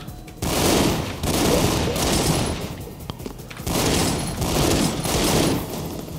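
Dense gunfire from the video game Broforce comes in long, loud bursts of rapid shots and explosions, separated by short lulls.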